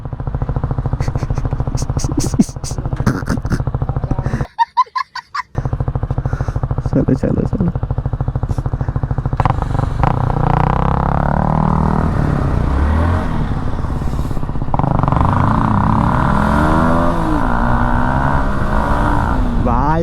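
A motorcycle engine revs hard and loud in a narrow neighbourhood lane, its pitch rising and falling in surges, with people talking over it throughout.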